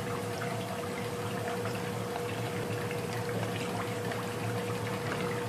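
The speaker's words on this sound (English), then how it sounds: "We're going to add a half gallon of mango ice base." A half gallon of mango Italian ice base is poured in a steady, continuous liquid stream, close and even in loudness throughout, with a faint constant hum underneath and no talk.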